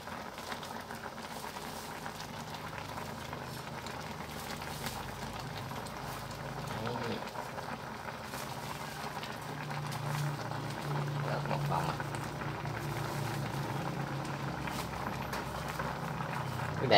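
A pot of fish and water hyacinth flowers cooks at a steady boil, with a low, continuous bubbling and gentle patter that stays fairly quiet and even throughout.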